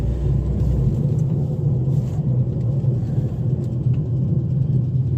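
Wartburg car engine pulling in second gear with a tappet noise, a steady low rumble and road roar heard from inside the cabin, continuous and fairly loud with no talk.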